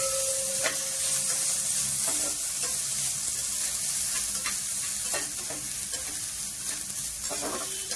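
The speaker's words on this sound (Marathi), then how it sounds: "मी आधी थोडं तेल टाकते आणि सर्व भाज्या थोडा फ्राय करून घेते तेलामध्ये" Vegetables fry in hot oil for a vegetable korma, a steady broad sizzle running the whole time, broken by frequent scraping stirs and a few sharper clicks of the spoon against the pan.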